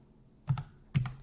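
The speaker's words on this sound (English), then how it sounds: "I just use the keyboard for that" Two quick clusters of keystrokes on a computer keyboard, tapped close by while entering an inequality in a graphing calculator, with no talk.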